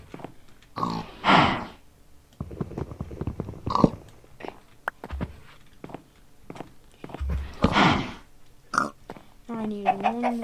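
A pig in the Minecraft video game grunts in short bursts amid footsteps and game noises, while a person talks over much of the action.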